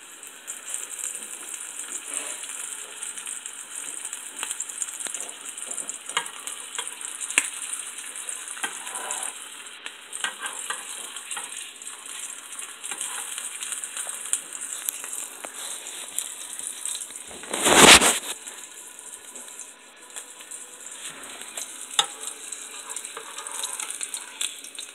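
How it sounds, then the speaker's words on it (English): Food frying in a pan, a steady close sizzle throughout with one brief louder clatter partway through, no talking. "while that's frying on that side"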